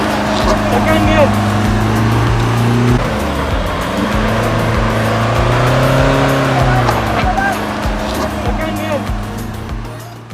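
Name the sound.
Tata Harrier SUV driving out of mud off-road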